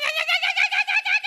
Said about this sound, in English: it's a little video of a bird receiving the piece of food in the mouth and the bird is going